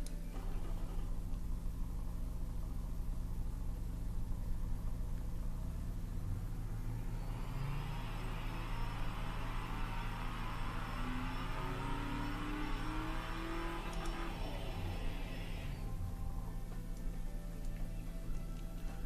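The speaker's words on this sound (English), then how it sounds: "So let's listen to this engine." A car engine in the game Automation idles with a steady low rumble, then revs up with a rising, strained whine for several seconds before dropping back.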